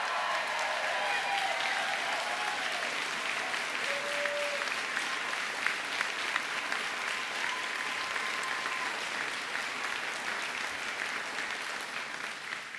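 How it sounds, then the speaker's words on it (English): A crowd gives sustained applause at a political event held at Pier 21 in Halifax, with steady dense clapping continuing throughout at moderate distance and occasional faint whistles. "Let's give them a big round of applause as well"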